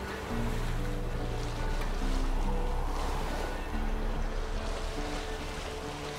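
A boat crosses a foggy lake in The Witcher 3 with a continuous wash of water and wind, steady and moderately loud throughout, with no speech.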